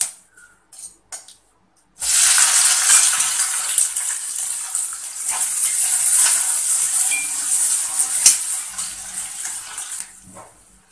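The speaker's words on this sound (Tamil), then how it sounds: "1 டேபிள் ஸ்பூன் அளவுக்கு கடுகு உளுத்தம் பருப்பு, நல்லா பொரிஞ்சு வரட்டும்" Mustard seeds, urad dal and chopped onion hit hot oil with a sudden loud sizzle that holds as a steady, close hiss for several seconds before cutting off, with a few quiet clinks before it starts.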